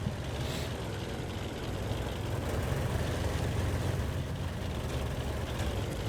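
A light tank's engine in World of Tanks, the LHMTV on the Murovanka map, drones steadily with a low, rumbling hum throughout, close and constant with no speech over it.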